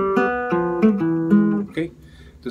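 Several plucked notes on an acoustic guitar form a short lead-in call, each ringing briefly before the next, close and clear.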